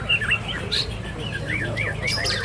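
Young white-rumped shamas (murai batu) sing at a bird contest in a Palembang housing estate, with quick whistled phrases and chirps repeating over a busy crowd murmur.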